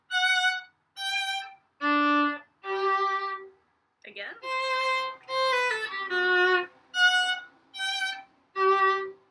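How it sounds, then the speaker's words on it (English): Bright bowed notes on a string instrument played in short slurred groups separated by brief pauses, close and clear, with a single spoken word from a teacher partway through. "Eventually, those will turn into fast slurs that sound like this."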